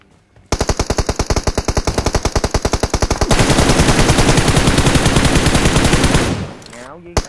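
Rapid automatic gunfire in a shooting video game, loud and close. A fast stream of evenly spaced shots runs for several seconds, then blurs into one dense roar of fire before cutting off abruptly.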